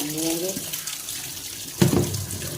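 Water runs steadily from a kitchen tap as vegetables are washed under it, with a brief splash and clatter near the end.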